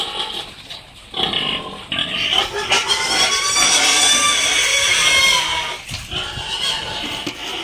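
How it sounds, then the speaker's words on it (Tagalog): Fattening pigs at the grower stage on a farm grunt and squeal loudly and close by, in a busy overlapping chorus of snorts and squeals from several animals. "Medyo dagko na gid guys, mga baboy namo din he."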